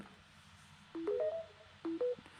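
Soft electronic beeps chirp from a DeWalt 20V/60V battery charger switching to fast charging: a quick rising run of tones, then two more short beeps after a pause, faint over a quiet room hum.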